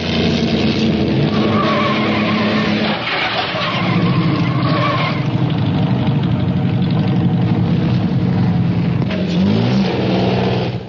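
1914 racing cars, German and French machines including a Delage, on a twisting 23-mile road circuit, their engines roaring and revving loudly and continuously throughout, with no talking.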